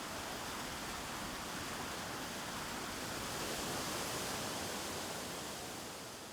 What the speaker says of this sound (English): The sound of water flowing through a noisy city.